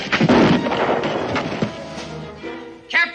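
A loud gunshot blast in a western film, a heavy boom opening the moment and rolling into rumbling noise that fades, with a brief shout near the end.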